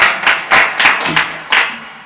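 An audience claps to welcome a contestant on a Hindi quiz game show, a quick run of scattered claps rising in several bursts over a couple of seconds, fairly close and lively with no talking.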